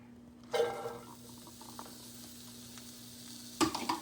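Onions dropped into a pan to caramelize, a quiet sizzle starting abruptly, then a soft steady crackle with a second burst of sizzling near the end, over a faint hum.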